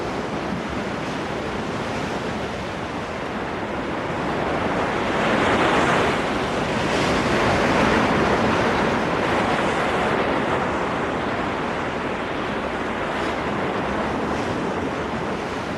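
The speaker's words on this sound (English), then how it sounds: "Driven by the wind over the wide Pacific, the swell builds." Wind-driven ocean swell rolling over the open Pacific, a continuous loud wash of surf and rushing water that swells and eases steadily, with wind noise buffeting throughout.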